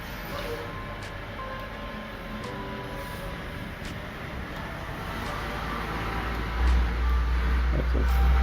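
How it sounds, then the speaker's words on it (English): A loud truck passes close by, a broad low rumble building steadily and swelling louder toward the end, with no talk over it. "That's a fucking loud truck."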